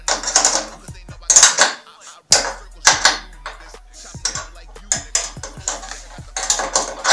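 Bolts are tightened while assembling a Huter SGC 4800 petrol snowblower, with a close run of metallic clicks, ratcheting bursts and scraping handling noises in irregular spurts separated by brief gaps.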